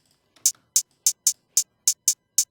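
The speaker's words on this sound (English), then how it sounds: "just layered it with another hi-hat," Crisp, bright layered hi-hat hits tick in an uneven, syncopated drill pattern, eight sharp strikes with silence between them and no other instruments.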